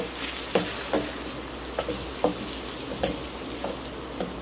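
Two medium tomatoes, cut up, fry in a pan for potato curry, a steady close sizzle broken by regular clicking taps from stirring.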